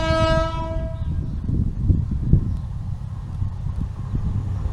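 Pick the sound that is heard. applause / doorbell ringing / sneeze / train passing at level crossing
train passing at level crossing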